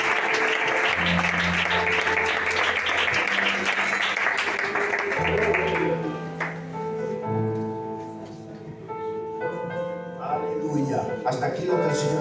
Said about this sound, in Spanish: Ese fuerte aplauso para el Señor.